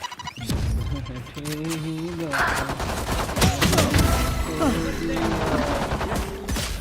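Rapid gunfire in Valorant crackles through a busy match, with repeated bursts and single shots under people talking and game voice lines, loud and near throughout.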